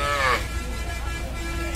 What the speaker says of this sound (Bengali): ষাঁড় গরু রয়েছে